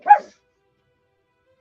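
One short, high-pitched yap from a small Pomeranian, close and clear, followed by silence.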